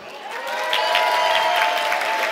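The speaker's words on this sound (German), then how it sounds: "Gibt es hier keinen Applaus?" An audience at a comedy show claps in a short burst after being prompted. The steady, moderately loud applause swells quickly and holds, with a tonal voice or sound running above it.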